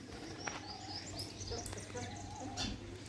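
Sparrows chirp in short bright bursts among garden trees and flowers, a few calls scattered over steady low background hum, moderately distant.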